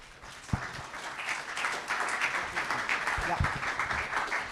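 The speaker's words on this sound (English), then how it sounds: "applause for Mariana and Remco" An audience at an academic symposium on small archives applauds, with steady moderate clapping from a room of people that builds after a sharp first clap and keeps going, with faint voices underneath.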